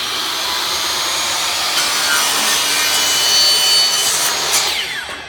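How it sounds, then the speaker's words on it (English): An ordinary hand wood saw cuts through a cured ArtResin sample, giving a steady, close, raspy sawing that holds even strokes for about five seconds before trailing off. "this is just a normal wood saw. I'll show you on this one ArtResin sample."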